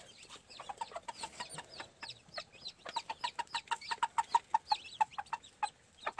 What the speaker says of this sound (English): When mama hen gets to calling, they come a running.